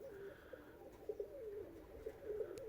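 Polish Mewka pigeons coo softly nearby, low rolling calls repeating in an uneven rhythm, with a few faint clicks and rustles in a quiet room.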